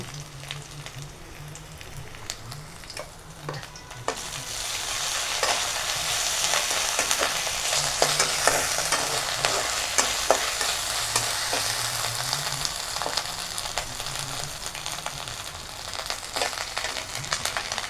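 Ginger and cumin paste with turmeric fry in a pan for a potato dal, starting as a softer sizzle and swelling into a louder, dense crackle with repeated spatula stirring strokes close by.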